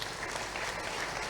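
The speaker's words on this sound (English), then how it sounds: "Let's clap for him." Lecture hall audience at a university vice-chancellor's distinguished lecture claps, a brief dense burst of many overlapping hands heard at a steady level.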